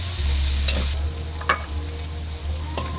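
Ginger fries in a pan as Bicol Express is cooked, a close steady sizzle with a low hum underneath and a few sharp clinks of a utensil against the pan.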